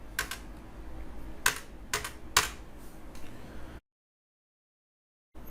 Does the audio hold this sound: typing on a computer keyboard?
yes